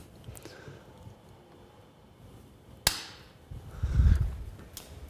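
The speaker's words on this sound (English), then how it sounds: "Let's just cut off some of that excess wire." A single sharp snip of excess welding wire being cut at a welding torch tip, one crisp click near the middle, followed by a brief low thump amid quiet room tone.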